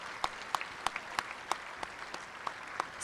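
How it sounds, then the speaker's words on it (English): A small audience applauds senior award recipients at a high school honors night, with a handful of distinct, fairly evenly spaced claps that are soft and a little distant, and no talk. "one more round of applause for our Senior Superintendent Award recipients"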